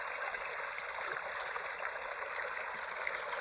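Water pours steadily into a cooking pot, making a continuous hissing, rushing flow that stays even and close throughout with no voices.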